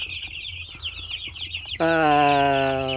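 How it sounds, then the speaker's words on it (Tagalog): A flock of nine-day-old broiler chicks kept for meat chirps in a busy, high-pitched chorus, then a louder, sustained, tonal bird call suddenly takes over up close. "Bali ngayon ay ikasyam na araw ng ating mga sisiw. And ayan sila."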